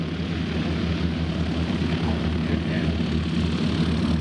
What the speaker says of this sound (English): Two smoke trails coming from the rear of that L39 as it comes on through